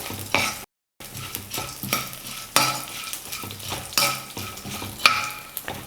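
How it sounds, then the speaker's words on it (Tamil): A cornflakes mixture with roasted gram is stirred and roasted in a pan, with rhythmic scraping strokes over a soft sizzle and a brief dropout near the start. "இப்போ இது எல்லாத்தையும் சேர்த்து நல்லா வறுத்துக்கலாம்."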